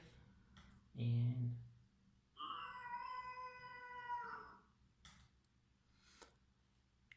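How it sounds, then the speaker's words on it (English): A pre-recorded angry cat sound plays through a cat-translator app: a loud low yowl burst, then a longer harmonic, drawn-out meow-like wail, followed by faint clicks, with little else around it. "I'm gonna actually play a pre-recorded angry cat sound"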